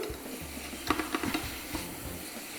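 Leeks seasoned with fine salt, Espelette pepper and ground black pepper are stirred in a pan, a few short scraping and rustling strokes over a soft, quiet sizzle.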